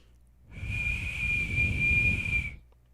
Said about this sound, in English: It's just blowing air. It's not even whistling.